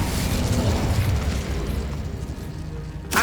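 The Incendio fire spell bursts in Hogwarts Legacy as a loud, rumbling blast that rolls on for a few seconds and fades, then ends in a sharp crackling flare.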